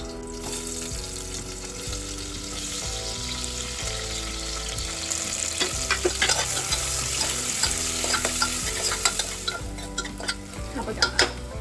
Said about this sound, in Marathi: यातला हा कांदा मी छान फ्राय करून घेतलाय